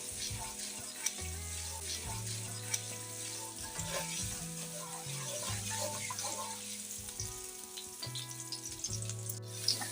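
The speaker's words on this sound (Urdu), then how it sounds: "2 چمچے ادرک لہسن کا پیسٹ ایڈ کرنا ہے اس میں، ہلکا سا براؤن کر کے" Ginger garlic paste sizzling and frying in hot oil or ghee in a karahi pan for Hazara-style beef karahi, a continuous close crackle with soft stirring scrapes and low background hum.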